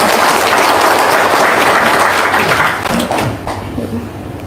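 Applause from an audience at an Indonesian motivational talk, loud dense clapping that fades over the last second or so.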